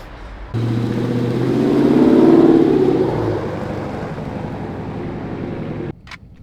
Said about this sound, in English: there's a loud VQ down there making a lot of fucking noise